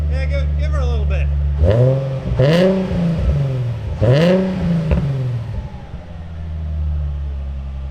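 A Nissan 350Z HR with a Z1 Touring aftermarket exhaust is blipped in two sharp throttle revs that climb and fall back, then settles to a loud, close idle rumble.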